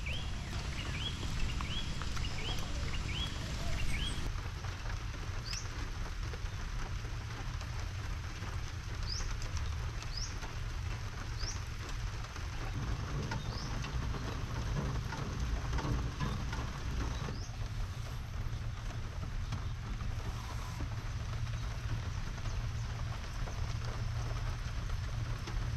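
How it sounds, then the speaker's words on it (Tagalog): Steady rain falls at a campsite in the Philippines, a continuous close patter throughout, with birds chirping and cooing faintly in the background. "Umuulan na."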